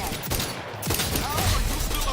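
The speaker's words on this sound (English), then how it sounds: "The rockets are insane." Rockets and heavy weapons firing during a firefight in The Outer Worlds 2, a dense, loud barrage of blasts and booming bursts overlapping continuously, with speech faintly mixed in.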